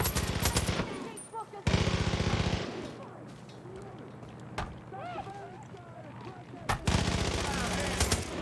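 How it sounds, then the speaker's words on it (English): Rapid machine gun fire in Far Cry 5, with dense bursts at the start and again near the end and quieter engine-like noise and scattered sounds between, mixed with someone talking. "You warmed up these guns good, but I'm about to make them red hot."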